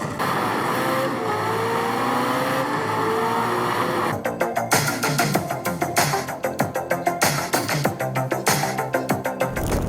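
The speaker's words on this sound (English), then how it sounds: "Just listen to some of that gameplay while playing." Racing video game audio plays through the speakers of an Asus ROG Zephyrus G14 2024 gaming laptop, with a steady engine roar that turns into a rapid, rhythmic pulsing buzz of revving cars partway through.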